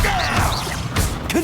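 A Confringo fire spell blast in Hogwarts Legacy, a dense burst with a crashing impact and swishing tail over continuous game effects, with a second hit near the end.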